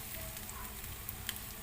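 Beef steak sizzles steadily in a frying pan, a soft continuous crackle with a couple of faint pops, heard up close.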